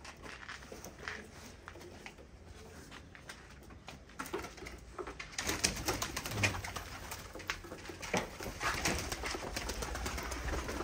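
Pigeons coo and flutter close by in a coop, with soft shuffling and scratching, the sounds growing busier and louder partway through.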